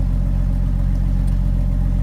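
A 1982 Ford F-150 pickup engine with its exhaust broken right after the manifold drones loudly and steadily at close range, its deep, rough exhaust note throbbing without pause.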